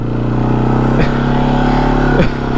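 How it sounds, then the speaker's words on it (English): A Kawasaki Brute ATV driving through deep mud, its engine droning steadily and loudly up close, with two brief dips in revs as the tires bite. "you can hear when the RPMs go down is when it's biting"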